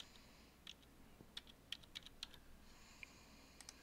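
Soft, quick keystrokes on a computer keyboard enter a license ID number in a quiet room, with irregular clicks tapping out in small clusters at low volume.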